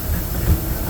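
Disneyland Railroad train running, a brief steady rumble with hissing and a low thump as the cars roll along.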